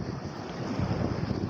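Waves breaking on a lakeshore in high wind, a steady wash of surf under microphone wind buffeting, fairly faint and with no talk.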